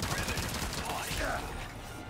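An SMG in the Resident Evil 4 Remake video game fires in rapid bursts, a dense crackling rattle of shots that runs throughout at moderate loudness.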